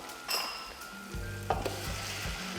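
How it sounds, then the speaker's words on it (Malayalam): Large beef pieces for Mattancherry-style beef biryani hit hot masala in a pot and fry with a steady loud sizzle, broken by a few stirring scrapes and utensil clinks. "ഇനി നമുക്ക് അതിലേക്ക് ബീഫ് ഇട്ട് കൊടുക്കാം"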